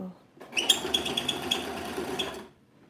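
A sewing machine stitches a tiered mini skirt in a short, steady burst of rapid needle clatter. It starts after a brief pause and fades to a stop after a couple of seconds.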